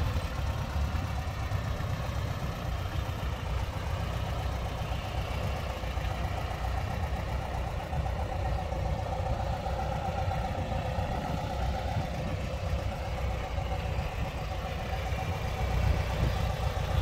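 A 1967 Volkswagen Beetle's air-cooled engine idles steadily at close range, with a low, even chugging rumble and a faint ticking knock. The sound runs unbroken throughout, with no voices.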